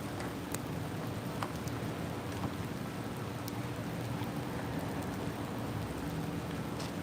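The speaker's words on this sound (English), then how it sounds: "raining out here." Steady rain falling outside at a campsite, a dense even hiss with scattered drops tapping on surfaces, continuous and without talk.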